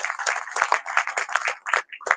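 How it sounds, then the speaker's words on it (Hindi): Audience applause at a stage event of a welfare foundation honouring young talent, a dense patter of many hands clapping steadily throughout, fairly loud and close, with brief dips and no speech. "एक बार जोरदार ताली बजाएं।"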